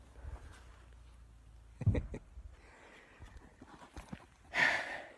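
A Mount Kosciuszko brumby moves about a cattle yard, with soft scattered hoof thuds on the ground, a louder stamp or knock in the middle and a brief burst of noise near the end, all fairly faint.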